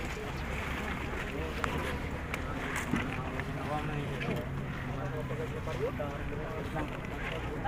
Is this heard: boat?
yes